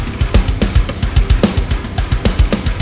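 A drum beat with a fill on the eighth bar plays loud and close: a busy pattern of quick kick and snare hits with cymbal crashes, driving steadily with no talk.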